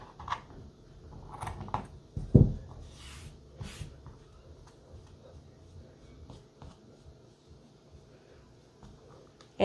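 Scissors trim the threads of a handmade planner tassel, giving a few quiet, scattered snips over a faint background with soft handling noises.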